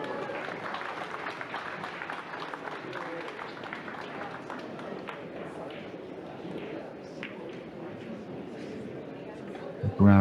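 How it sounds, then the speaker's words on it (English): Distant applause drifting over from an adjoining table at a 9-ball pool tournament hall, a soft steady patter of clapping heard faintly across the room, ending with a brief louder knock. "Round of applause from the adjoining table."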